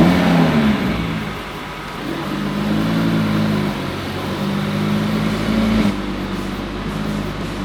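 An Audi RS3 8Y engine runs at low speed with gentle rising and falling revs while the car is manoeuvred and turned around, a steady close five-cylinder drone without speech.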